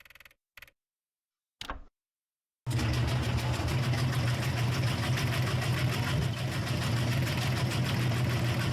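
A washing machine in an abandoned mansion horror game starts up after a few brief clicks and silences, then runs as a loud, steady rumbling drone with a ticking, metallic clatter from inside.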